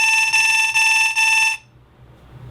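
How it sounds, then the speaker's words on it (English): An escape room laser grid alarm, set off when a laser beam is broken, sounds in three quick, loud pulsed tones, then cuts off, leaving quiet room noise. "If they break either of the lasers, they'll hear an alarm sound"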